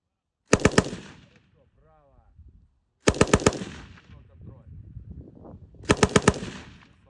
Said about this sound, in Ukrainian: навчився стріляти з американського важкого кулемета М240